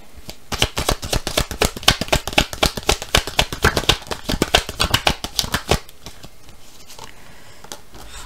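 Playing cards shuffled in a long run of rapid, crisp riffling clicks, close and fairly loud, easing into a few scattered soft card flicks and handling noises near the end, with no voices.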